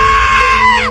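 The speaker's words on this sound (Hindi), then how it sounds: "तभी बाहर से ड्राइवर की चिल्लाने की आवाज आती है" A man screams in fear, one loud, sustained, strained cry close up that rises and then breaks off near the end.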